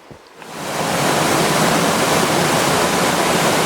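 A small rainforest waterfall, only three to four meters high, pours into a stream. Its dense rushing roar swells up within the first second and then holds loud and steady, with no voices.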